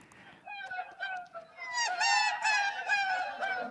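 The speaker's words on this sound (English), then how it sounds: "They're also taking a voice and stretching it and warbling so it sounds like seagulls." A Beatles vocal stretched and warbled on tape until it resembles seagulls: a run of rising and falling squawking cries, loud and close, swelling denser toward the end.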